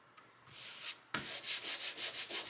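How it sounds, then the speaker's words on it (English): Sandpaper rubbed over a small wooden arrow cutout: a faint scrape, then a steady run of close, rhythmic back-and-forth sanding strokes. "I'm gonna take my sandpaper and just get the extra off on here"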